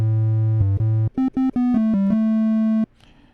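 Mellow triangle-wave tones from a Menace synthesizer play a short run of stepping pitches, some notes rapid and detached, ending on a held note that cuts off into quiet.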